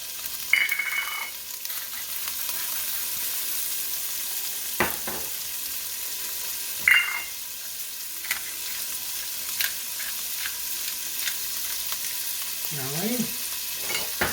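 Shrimp seasoned with salt and pepper fry in a pan, a steady bright sizzle throughout with a few utensil knocks and scrapes and a brief murmur of voice near the end.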